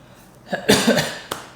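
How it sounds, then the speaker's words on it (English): A few close, harsh coughs in a short burst, then one more cough a moment later. "throughout this video I will be coughing"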